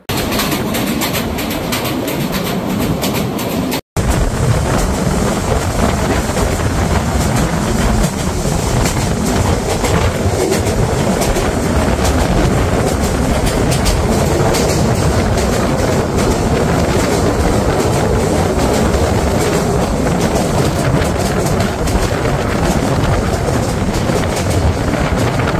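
A train rolls across a rail bridge over the Meghna river on the Dhaka to Cox's Bazar line, with a loud, continuous rumble and rattle heard from on board that runs steadily throughout.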